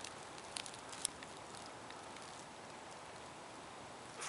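Water flows steadily from a wetland overflow on Cedar Mountain in Newington, Connecticut, a constant even rush heard alone with a couple of faint ticks near the start.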